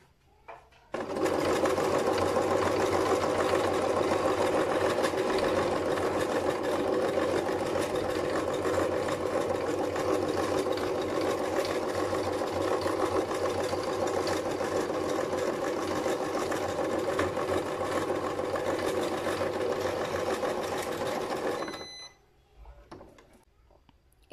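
A sewing machine runs steadily for about twenty seconds, stitching the button placket of a child's nightdress, a continuous close mechanical whir that stops abruptly near the end with no talk over it.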